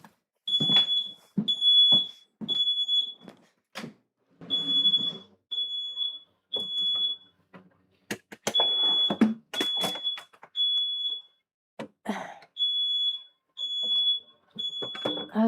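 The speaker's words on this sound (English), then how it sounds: "my fire alarm is in and it is working" A kitchen smoke detector sounds in repeated bursts of sharp, high beeps, loud and close, each burst a quick run of three chirps, with clattering cooking noises and bumps between them.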